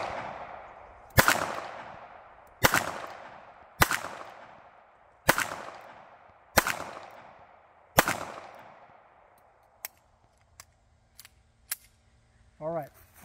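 Seven sharp, loud shots from a micro concealed carry pistol fired one at a time at a range, evenly spaced about a second and a half apart, each ringing out with a short echo before quieter clicks follow.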